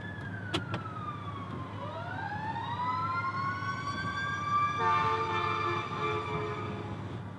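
Fire truck siren passing outside a parked 2019 Volkswagen Jetta R-Line, its wailing tone sweeping up and down and then holding steadier as it grows louder, clear over a low background hum.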